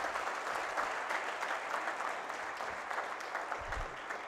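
Crowd at an awards night grand finale for a student competition claps for the participants, an even, moderately distant round of applause with a brief low thump near the end.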